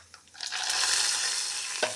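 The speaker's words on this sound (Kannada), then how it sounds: "ಒಗ್ಗರಣೆ ಆಯಿತು." Spice tempering for a Havyaka-style jumana kalu tambli starts to sizzle in a pan after a soft clink, then holds as a steady, close, moderate hiss with a light tap near the end.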